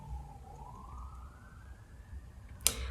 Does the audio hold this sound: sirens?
yes